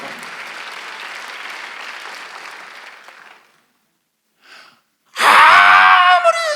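A church congregation at a Sunday worship service breaks into steady, full applause that tapers off, followed by a short pause, a brief faint sound and then a loud, bright burst of renewed clapping and cheering.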